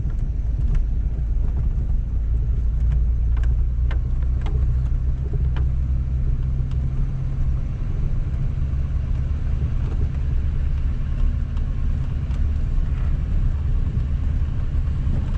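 A vehicle driving along a farm field buffer strip, a loud, continuous low engine rumble and road noise close by, steady throughout with faint rattles and no talking.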